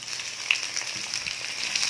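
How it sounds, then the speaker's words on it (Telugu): Onion frying with curry leaves and garlic for a ridge gourd and moong dal curry, giving a steady close sizzle with small pops and crackles throughout, no voices. "ఈ ఆనియన్ కొంచెం ఫ్రై అవనిద్దాం."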